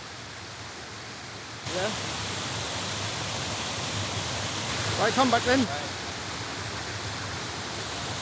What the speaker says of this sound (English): There's quite a lot of water going over that.